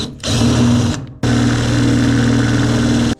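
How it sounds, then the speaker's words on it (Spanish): A masonry bit drills a drainage hole through a concrete planter: a loud, steady, whining motor drone runs in two stretches separated by a brief pause, with no voices. "Con una broca para concreto vamos a hacerle el agujero de filtración en la maceta."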